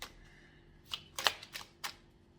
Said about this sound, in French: Si j'arrive à mélanger les cartes